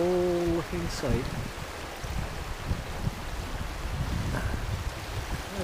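River water flows steadily past after floating ice clumps have drifted by on a cold early-spring day, a continuous broad rushing wash with some wind, while someone speaks at the start.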